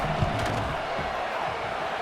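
A stadium crowd in the College Football 26 video game murmurs and roars steadily through a tense field goal attempt, a dense, continuous wash of noise with no clear peaks.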